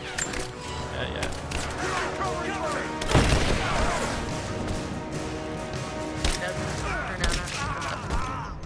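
Bursts of gunfire ring out in Rise of the Tomb Raider, a volley of sharp shots with a heavier boom, under a steady game soundtrack and background noise.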